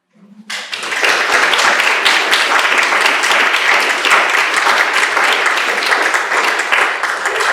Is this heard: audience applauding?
yes